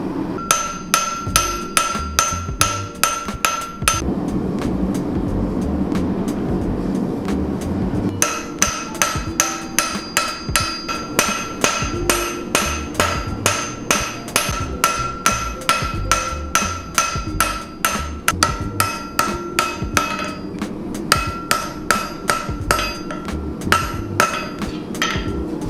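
A hammer pounds heated steel on an anvil while a Japanese-style marking knife is forged, striking in steady rhythmic bursts of ringing metallic blows, loud and close, with a short pause between series and no talking.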